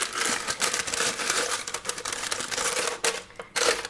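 A paper liner crinkles as it is laid into a Ninja air fryer, giving a busy run of close crackling and rustling with a few sharper bursts near the end.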